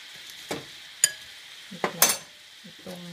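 Squid fries in oil in a pan as a spatula stirs it, giving a handful of sharp scrapes and clinks over a faint background sizzle, with no talking.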